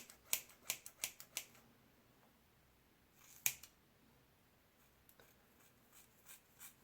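Scissors snip through hair during an at-home layered haircut, a quick cluster of sharp crisp cuts, then a pause, a single louder snip, and a few softer scattered snips, close and alone.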